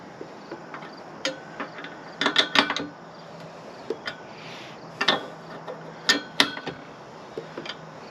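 Something being raised and leveled for winter gives short, scattered creaks and ticks, some in quick clusters, against a quiet outdoor background.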